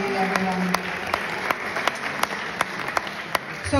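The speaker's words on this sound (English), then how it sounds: "Let's give them a huge round of applause" Audience applause for the event organizers fills the space as a steady wash of clapping with scattered sharper individual claps, moderately loud and continuous throughout.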